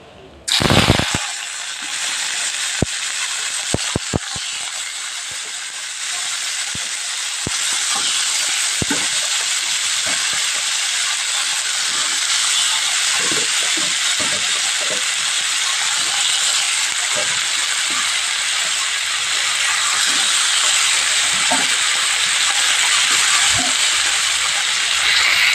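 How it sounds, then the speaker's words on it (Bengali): Cauliflower and potato pieces frying in hot oil, a loud burst as they drop in, then a steady close hiss with scattered pops and crackles throughout, with no talking. "এবার আমি তেলের মধ্যে ফুলকপি আর আলুটা ভাজতে দিয়ে দিচ্ছি।"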